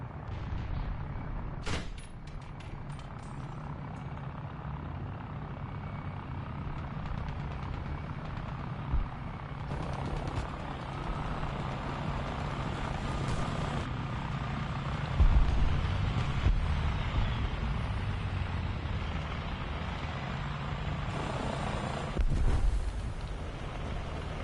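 Helicopter in the War Thunder tank battle game, a steady low rotor drone running throughout amid rumbling battlefield noise and occasional sharp gunfire bursts, no speech.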